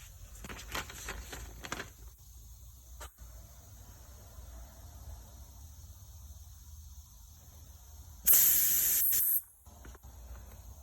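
A short, sharp burst of high, airy hissing from an Iwata LPH-80 paint spray gun cuts through a quiet room for about a second, with faint clicks and shuffling around it.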